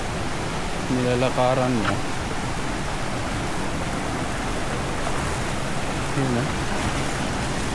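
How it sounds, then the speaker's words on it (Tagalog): Casaroro waterfall roars as a constant, dense rush of falling water close by, with a person briefly talking over it near the start and again faintly later. "Sarap pakinggan ng hagas ng tubig ng falls."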